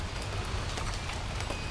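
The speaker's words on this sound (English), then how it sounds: "Oh, they're big raindrops." Big raindrops fall on outdoor surfaces, a dense, steady patter of close impacts with no voices over it.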